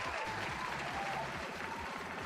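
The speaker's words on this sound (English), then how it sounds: "Let's stop that applause." Synthetic applause from a ColecoVision video game, a dense crackling wash with a bubbling rhythmic texture that continues steadily at moderate loudness.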